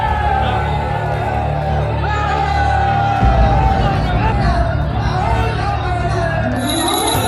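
A dense crowd in a royal palace setting murmurs and chatters continuously at close range, with a low steady hubbub under music and a few raised voices.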